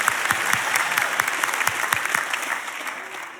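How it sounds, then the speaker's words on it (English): A church audience claps at a sermon, a dense sustained burst of many hands close up that slowly thins toward the end, with faint crowd voices beneath. "Clap like it's not you."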